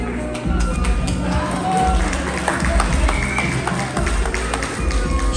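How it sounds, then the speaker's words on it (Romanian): Guests clapping at a birthday party, an uneven round of applause mixed with crowd murmur and thumps, moderately loud throughout. "Aplauze!"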